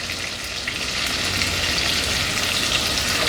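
Pork chops frying in butter in a 14-inch skillet, a loud, steady, close sizzle that swells slightly and continues without pause, no voices.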